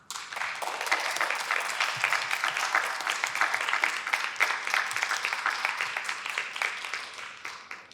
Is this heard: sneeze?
no